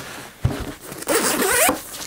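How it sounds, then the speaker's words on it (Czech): The main compartment zipper of a large MIL-TEC Assault II military backpack is pulled open in a couple of close, quick rasping strokes, the second one longer and brighter. "Vidíte, že zip zasahuje až sem."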